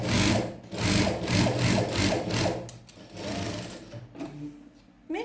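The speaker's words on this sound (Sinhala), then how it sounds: "මේ පුට් කෙළවරට තියලා මහන්න පටන් ගන්න." A sewing machine stitches fabric during a beginner sewing lesson, running in loud rhythmic bursts of rapid clattering at close range, slowing and stopping near the end with a few mechanical clicks.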